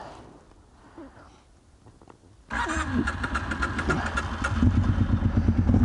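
An ATV engine is started out on a forest trail: after a few quiet seconds it catches abruptly and settles into a loud, steady idle that grows slightly stronger near the end.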